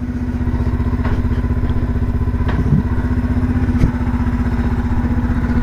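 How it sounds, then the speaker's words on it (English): A 1978 Kawasaki KL250 with a newly installed carburetor runs steadily close by, a rapid even single-cylinder thrum with a few light clunks and knocks along the way. "Listen to that engine purr."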